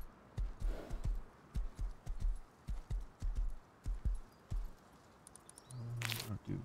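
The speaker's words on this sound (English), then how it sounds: "I said, horse, you can appear" Horse hooves in the video game Rust, a steady clip-clop of quiet, even footfalls walking, then a brief brighter noise at the end.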